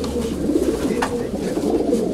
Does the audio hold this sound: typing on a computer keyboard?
no